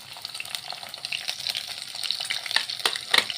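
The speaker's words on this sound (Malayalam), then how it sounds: "ഈ ഇഞ്ചിയും വെളുത്തുള്ളിയും ചതച്ച് വെച്ചതാണ് ഇട്ട് കൊടുക്കാം" Crushed ginger and garlic frying in hot oil with fenugreek, a steady close sizzle with crackling spits and occasional stirring scrapes, growing slightly louder toward the end.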